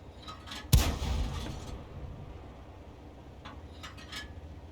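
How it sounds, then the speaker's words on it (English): A tank in a video game, an FCM 36 Pak 40, fires a single high-explosive round: one loud, sharp blast that decays into a rumbling tail, followed by quieter battle ambience with no talking. "He's now firing the HE rounds in that direction."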